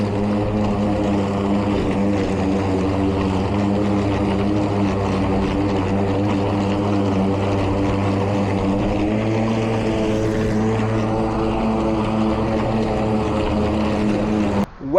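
A Milwaukee 2823-22HD battery-powered electric lawn mower, running on a 12 amp-hour battery, gives a loud, steady harmonic drone. The drone holds close and even for the whole stretch and cuts off abruptly at the end. No one speaks.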